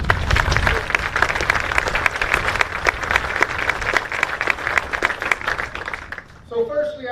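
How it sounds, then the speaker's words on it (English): Audience applauding at an Army retreat ceremony with a band, salute battery and color guard, a dense, steady round of clapping from a large crowd that fades out near the end. "Please join me in a round of applause."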